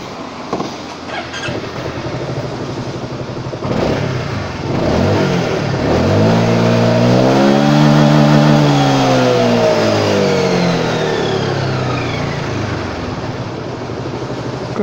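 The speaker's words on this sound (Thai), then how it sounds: "เดี๋ยวลองฟังเสียงเครื่องกันอีกครั้งหนึ่ง" A Honda Forza 300 scooter engine idles, then revs up loudly in a long rising and falling sweep before dropping back toward idle, close by.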